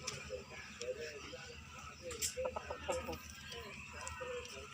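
Hens cluck and a large rooster calls among the flock on a farm, moderately close, with people talking nearby over a humming background.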